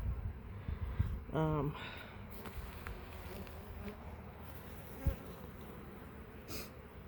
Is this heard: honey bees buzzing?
yes